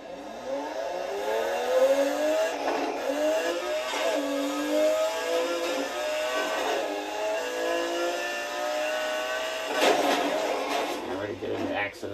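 A race car engine in Need for Speed Heat revs and accelerates repeatedly through the gears, pitch climbing and dropping in waves, with a voice talking over the engine most of the time.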